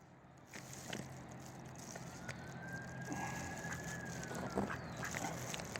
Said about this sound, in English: I'm going to put a little video here at the end for you guys of some ducks.